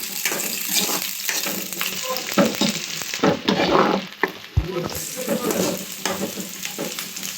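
Onion and green chillies sizzle in hot oil in a pan while a spoon stirs and scrapes them, with steady close frying crackle and brief louder stirring bursts.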